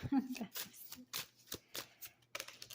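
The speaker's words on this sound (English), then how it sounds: "I'm shuffling in camera" A deck of tarot cards being shuffled by hand, a series of crisp riffling and slapping bursts repeating at a steady pace, close to the listener with no voice over it.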